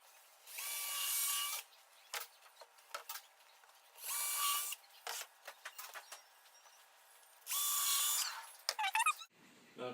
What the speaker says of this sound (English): We're going to do the drill holes where I pre-marked them.